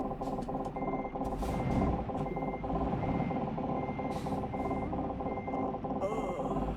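A truck in Euro Truck Simulator 2 sounds a steady run of reversing beeps, evenly spaced over a low idling engine hum, with a few brief clicks and noises scattered on top.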